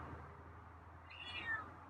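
A hungry feral cat gives a single drawn-out meow close by, rising and falling over a steady low background hum.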